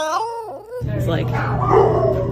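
A dog answers with a drawn-out, wavering howl mixed with whimpering yips, close and fairly loud, right after a person's brief vocal prompt.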